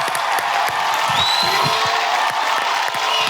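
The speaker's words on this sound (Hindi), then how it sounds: "जोरदार तालियां इनके लिए" A studio audience on the Hindi comedy show Khatra Khatra Khatra roars with dense clapping and cheering, a loud continuous wash of crowd noise that holds steady throughout.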